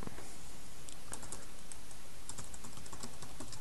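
Computer keyboard typing during website building in WordPress, a run of light, irregular key clicks spread through the clip at a moderate, steady distance, with no voices.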